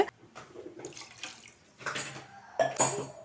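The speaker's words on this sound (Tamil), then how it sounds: "இப்போ இதில் தண்ணி சேர்த்துக்கலாம்." Cold water is poured onto ragi vermicelli in a few short splashing bursts, with light clinks of a kitchen vessel between them and no talking.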